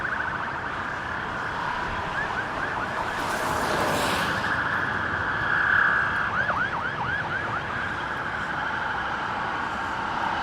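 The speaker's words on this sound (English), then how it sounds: "Oh, there goes a police car." A police car siren wails past on Yonge Street in Toronto on a snowy night, its rising and falling yelps sounding at a distance over steady traffic rumble.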